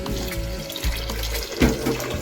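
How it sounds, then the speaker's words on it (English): Water from a kitchen tap runs into a pot of white rice, a close, steady trickle and splash with a few brief clunks of the pot. "catch the water about a little bit above the rice, not too much"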